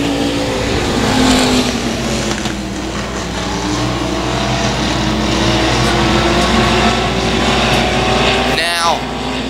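Race cars roar around the Boyd Raceway track, running side by side into turns three and four. Loud, continuous engine drone rises and falls as the cars pass close by, with a brief sweeping whine near the end.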